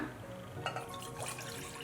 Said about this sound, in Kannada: ಈಗ ಪ್ಯಾನಿಗೆ ನೀರು ಹಾಕ್ಕೊಳ್ಳೋಣ